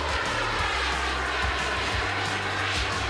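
A jet engine suit roars steadily throughout, a loud continuous engine whine and rush with pulsing low thumps, no voices.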